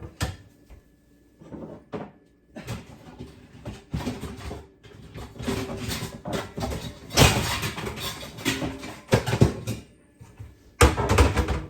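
Metal pots clank and clatter as they are shuffled and set down, a string of irregular knocks and scrapes up close with brief quiet gaps.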